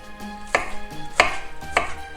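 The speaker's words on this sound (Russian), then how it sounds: "А оставшийся лук нарезаю мелко." Three sharp knife chops cut green onion finely on a cutting board at a slow, steady pace, close and crisp, with soft handling noises between.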